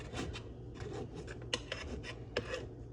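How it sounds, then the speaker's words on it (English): A knife scraping around the inside ring of a cake pan to loosen a Milky Way cake, quiet rasping strokes in short bursts with a few sharper metallic scrapes, close and alone. "I'm gonna try sliding a knife down a little bit"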